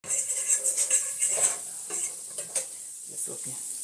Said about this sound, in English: let me stir this